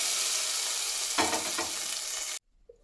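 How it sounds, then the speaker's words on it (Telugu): Loud, steady sizzle of garlic frying in hot oil for gongura dal, with a brief burst of stirring or pouring midway before it cuts off abruptly into near silence. "వెల్లుల్లి అంతా ఇలా మంచి కలర్లోకి వచ్చిన తర్వాత ఇదంతా పప్పులోకి వేసేసుకోవాలి."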